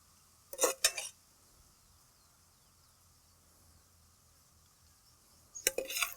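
Steel cutlery and a dish clink twice, near and brief, as Kathiyawadi sev tomato curry is served onto a plate in a home kitchen; quiet pauses fill the gap between the two bursts.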